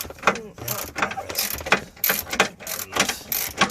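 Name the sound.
double geared ratcheting tool handle being turned, tightening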